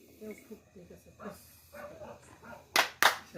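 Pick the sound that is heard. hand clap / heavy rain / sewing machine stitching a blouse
hand clap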